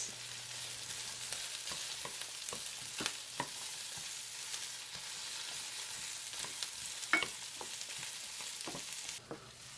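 Onions and celery sautéing in a pot, a soft steady sizzle broken by occasional clicks and scrapes of stirring, quiet and close with no talk.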